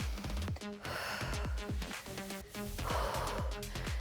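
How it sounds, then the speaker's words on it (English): Heavy, rhythmic breathing during a full-body home workout, with repeated sharp inhales and exhales pulsing steadily over a continuous bed of background music. "Keep breathing."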